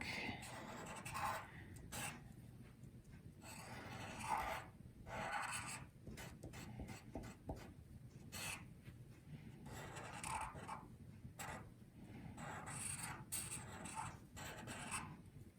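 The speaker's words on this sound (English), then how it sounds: "I'm going to take my permanent marker and I'm going to start tracing my lines" A permanent marker traces lines on paper during an art lesson, giving quiet, repeated rubbing strokes in short bursts and pauses, soft and close throughout.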